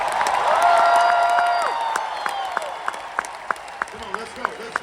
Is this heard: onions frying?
no